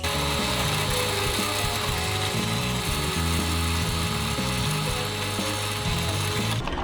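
A power drill whines loudly and continuously, boring steadily into aluminum at close range, with a harsh, constant texture throughout.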